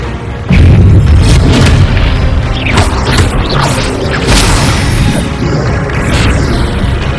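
Loud booming spell impacts and crashes from wizard combat in Hogwarts Legacy, a dense, sustained roar of magical blasts with sharp bursts layered over continuous rumble.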